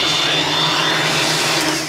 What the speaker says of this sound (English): Is it a vacuum? Hair dryer? Oh, hair dryer?